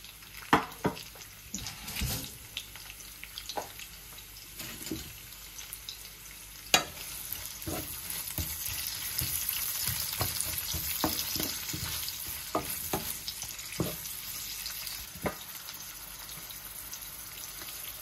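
Chopped onions with ginger and garlic cubes frying in a pan for a Bangladeshi-style chicken breast curry, a steady sizzle under scattered clinks and stirring scrapes, close and moderately loud with no talking.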